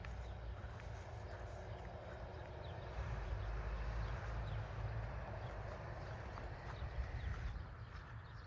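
Horse hooves clop along steadily amid outdoor noise, with people talking in the background.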